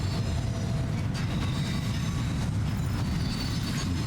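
A monorail in the Death Stranding 2 video game glides along a coastal track with a steady, loud rumble and low rolling rail noise, with a few faint squeals and clacks throughout.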